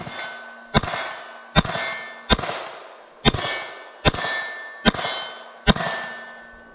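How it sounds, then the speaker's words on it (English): Eight sharp gunshots from a Beretta 81 .32 pistol fired at about seven yards, spaced roughly a second apart with ringing decay after each report, loud and close with no talking. "Mike's gonna give her a run with the Beretta 81."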